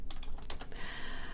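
Someone types a message on a computer keyboard at a front desk, a quick close burst of key clicks with no talk over it.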